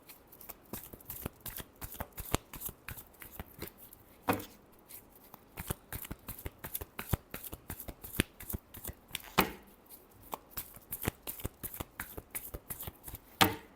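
Tarot cards being shuffled, a rapid run of crisp riffling flicks and taps with short pauses, close and clear with no talking.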